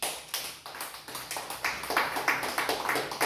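A church congregation claps for Jesus in a steady rhythm, with many hands striking together in brisk, loud, repeated beats that continue throughout without talk.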